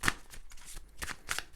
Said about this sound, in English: So now, my gorgeous Leonie, I'm just going to shuffle these oracle cards.